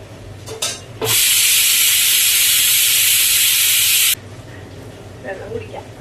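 A pressure cooker holding jackfruit seeds and cucumber with turmeric and salt vents steam in a loud, steady hiss lasting about three seconds, starting and stopping abruptly, with someone talking briefly before and after.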